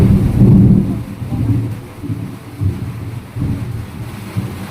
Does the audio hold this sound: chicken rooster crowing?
no